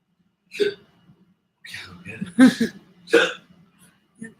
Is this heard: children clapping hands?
no